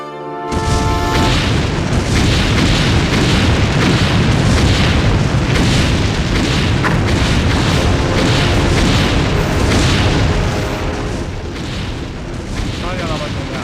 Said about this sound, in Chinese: 开炮！